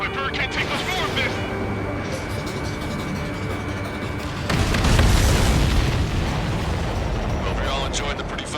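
Rumbling explosions and booms from the Ace Combat 7 video game swell into a dense, loud roar midway, with game dialogue and music layered over the blasts.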